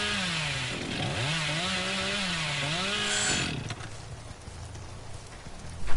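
A chainsaw in the video game Dead by Daylight whines and revs up and down, its pitch bending repeatedly, then drops away to a quieter idle-like rumble with soft background hiss.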